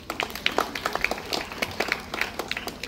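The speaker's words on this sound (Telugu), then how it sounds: "చప్పట్లు కొట్టొచ్చు." A crowd at a Catholic church feast of Saint Anthony in Donakonda claps together, giving brief, moderately loud applause with dense overlapping hand claps throughout.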